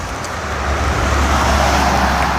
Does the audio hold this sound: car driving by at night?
yes